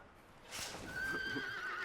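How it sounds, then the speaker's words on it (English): A horse in the video game Metal Gear Solid 5 rears and lets out a clear, drawn-out whinny, with a few soft hoof clops, rising after a quiet start and holding steady to the end. "The horse rearing at his name."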